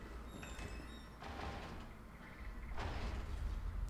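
Door opening in the video game Resident Evil 3, a mechanical scrape and rumble swelling around the middle and again near the end beneath steady game ambience.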